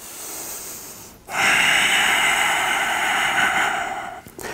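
A long, deep breath during a morning yoga session, a steady rushing airflow drawn in close to the microphone after a brief pause, with a second short intake at the end.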